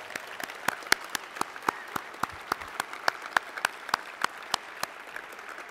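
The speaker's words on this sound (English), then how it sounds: "Let's give them another round of applause." Sparse applause at an inventor award ceremony, distinct individual claps ringing out in an irregular, fairly quiet rhythm from a small audience.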